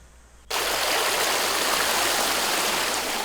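Cool mountain valley stream water rushes after a brief quiet start, a dense, steady, loud wash of flowing water that holds unbroken and close to the end, with no voices.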